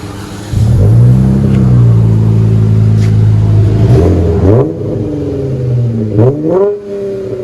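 A Dodge Charger V6 fitted with an aftermarket exhaust, recorded from inside the car, gives a loud, deep rev that swells and holds, then drops back toward idle before two more quick blips.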